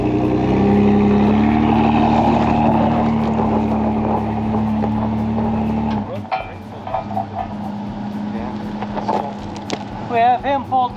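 A vehicle engine rumbles loudly and close at night as it moves up a road, then cuts off, leaving people talking and moving about nearby.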